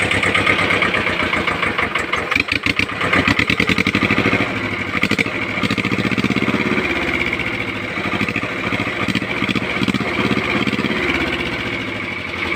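A tractor engine fitted with a homemade exhaust cut from a car pipe chugs loudly nearby with a rough, throaty exhaust, its rapid pulsing beat rising and easing slightly as it runs.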